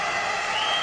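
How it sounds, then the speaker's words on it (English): Pickleball championship crowd noise from fans, a steady broadband roar of cheering and scattered clapping filling the whole moment without clear peaks. "The Wolverines fan club's holding their own as well with a little bit of noise coming up."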